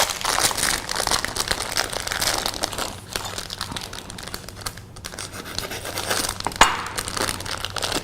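Crinkly plastic rustling and tearing as a bag of semi-sweet chocolate is opened, steady and close, with a sharper rip near the end; no talking.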